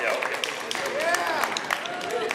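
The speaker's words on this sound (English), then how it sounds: "You guys should be applauding that" A concert audience applauds parents who helped with dinner, scattered clapping from many hands running under chatter and a few raised voices, moderately loud throughout.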